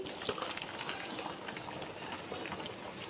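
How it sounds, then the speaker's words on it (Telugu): Nellore-style fish curry with mango pieces simmering in a pot, a soft, steady bubbling with scattered small pops, quiet and close, no voices. "చేపల పులుసు కూడా ఉడుకుతుందండి."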